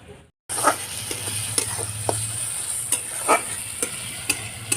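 After a brief moment of silence, onions and tomatoes start frying in a pan with a loud steady sizzle, while occasional spatula stirs scrape and tap against the metal nearby.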